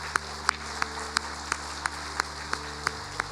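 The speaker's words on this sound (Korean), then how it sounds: "여러분 힘차게 축복의 박수를 해주셨으면 좋겠습니다" Church congregation clapping together in a steady, even rhythm, about three claps per second, over a sustained tonal background of music in a large worship hall.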